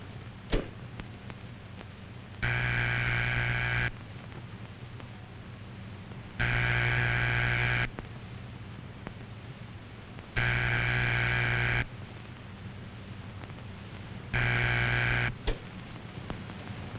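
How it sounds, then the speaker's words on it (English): 1940s dial telephone ringback tone: four evenly spaced bursts of a steady buzzing tone, each about a second and a half, separated by pauses over faint line hiss. "That's the ringing signal."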